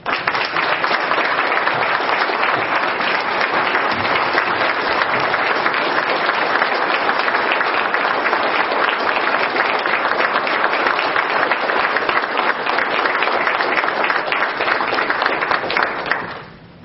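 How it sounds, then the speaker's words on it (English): Sustained applause from an audience at an Amarillo College gift event in Hereford, honoring the mayor, dense steady clapping holding loud and even for about sixteen seconds before cutting off abruptly at the end. "Let's take a second and give him applause"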